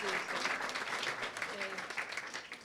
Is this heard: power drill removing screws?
no